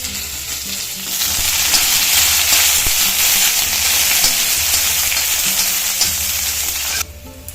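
Shallots and curry leaves sizzle steadily in hot oil in a pan, a loud, continuous close frying hiss that stops abruptly at the end.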